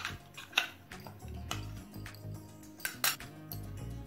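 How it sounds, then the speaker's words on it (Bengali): Spoon clinking and scraping against a bowl while mixing garlic, chilli and coriander paste into fish fry batter, with irregular sharp metallic taps and soft wet stirring, close and fairly quiet. "এবার এটাও ব্যাটারের সাথে মিশিয়ে নিচ্ছি।"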